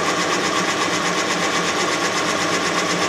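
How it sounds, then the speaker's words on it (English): An engine cylinder bore being cut by a boring bar feeding at a set speed, a loud, steady mechanical whir with a fast rhythmic chatter that holds unchanged throughout, close and alone. "The bar progresses at a set speed down the cylinder bore, so it cuts all of the cylinder walls."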